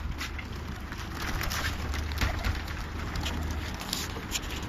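Small pigeons kept for show, heard close with soft cooing and fluttering amid steady low background hum, no talk.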